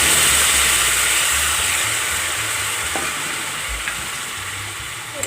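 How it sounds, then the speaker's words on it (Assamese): Spices and greens stirred in a hot pan for an Assamese fish curry with a steady, close sizzle and faint scrapes of the spoon, fading slightly toward the end. "ধুনীয়া কৰি লৰাই ল'ম"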